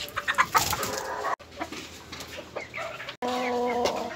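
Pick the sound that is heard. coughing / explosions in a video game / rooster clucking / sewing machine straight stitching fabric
rooster clucking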